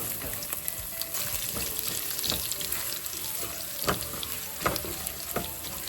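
Crushed garlic and dried red chillies frying in oil, a dense close sizzle with several sharp crackles and pops and occasional stirring scrapes, without speech.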